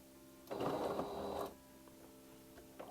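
A sewing machine stitches a seam in fabric for a bag holder, running as a single steady whirring burst of about one second before it stops, with no talk over it.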